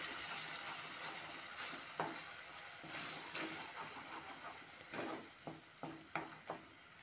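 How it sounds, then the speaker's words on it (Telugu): Green chilli sauce, tomato sauce and vinegar stirred together in a pan for a chicken pasta, with soft wet scraping and sizzling and a few sharp clinks of the spoon on the pan toward the end, close and quiet. "గ్రీన్ చిల్లీ సాస్, నెక్స్ట్ టమాటా సాస్, వెనిగర్, ఇవన్నీ కలిసి ఇలా తిప్పుకోవాలి ఒకసారి."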